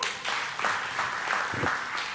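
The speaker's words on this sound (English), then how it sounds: "Another round of applause for Joe." A church audience gives another round of applause for Joe after his song, a short burst of clapping with loose uneven pulses.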